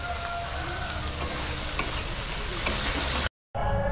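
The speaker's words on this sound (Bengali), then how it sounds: "এখানে চিংড়ি মাছ ভাজা চলছে" Shrimp fry in oil in a wok with a loud, continuous crackling sizzle heard up close, broken by a brief moment of silence near the end before the frying noise returns.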